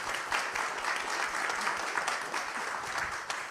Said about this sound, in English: I encourage you all to have a huge round of applause for our invitees